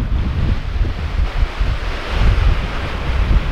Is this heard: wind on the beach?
yes